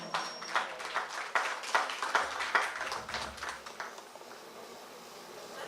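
Audience at a pan solo steelband competition in Guayaguayare gives a round of applause, moderately faint scattered clapping for about four seconds that tapers off.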